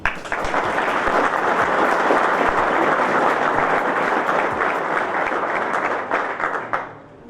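A large audience at a debate forum on youth voting, party financing and drug dealing gives a judge a full, sustained round of applause, loud and dense throughout before it tapers off near the end.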